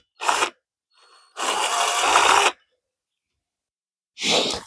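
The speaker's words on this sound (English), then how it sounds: "Just need to hold the drill in place." A power drill bores into a railway sleeper in three separate bursts: a short one, a longer sustained run, and a final short burst, each separated by silence. The drill is close and fairly loud.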